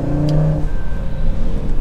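A 2024 Audi RS3 sport sedan in RS performance mode gives a steady, close engine drone with strong low harmonics. The engine note swells briefly early on and then settles into an even, continuous hum.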